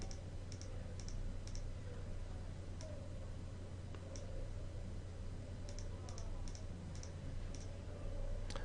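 A computer mouse clicks while editing face nodes in Crazy Talk face fitting software, with sparse, sharp clicks in small clusters at irregular intervals over a constant low background hum.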